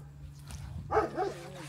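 A neighbor's dog barks a few times at a distance, giving short faint yips and a louder bark over a steady low hum.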